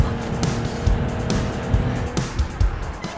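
A car revs and lurches forward with short tire squeals and engine bursts, loud and close, a few uneven spurts of acceleration in quick succession.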